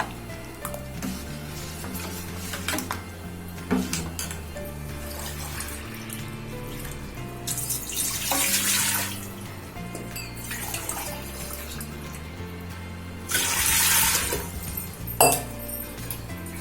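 Water is poured into a vessel while making Tamil rice vathal, with two louder rushing pours standing out against clinks of glass and utensils and a steady low kitchen hum, and no talking.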